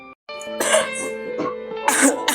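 A person gives a few harsh, close coughs and throat-clearing bursts in quick succession, loud and nearby with nothing else around.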